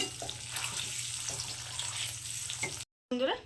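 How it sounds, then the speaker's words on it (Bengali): An egg frying in a pan makes a steady, moderate sizzle with a couple of soft stirring knocks, then a brief cut to silence and a short burst of different sound at the end. "ডিমটাকে আমি হালকা ভেজে নিয়েছি এবার ডিমটাকে আমি তুলে নেবো"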